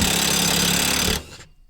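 Makita impact tool hammering on a stuck part of a skid loader, a loud rapid rattling burst lasting about a second that then cuts off into quiet.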